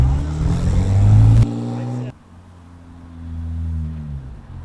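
Cheap used Porsche 911 accelerating hard, its engine note climbing loudly before abrupt drops at gear changes, then building again, with a voice briefly heard.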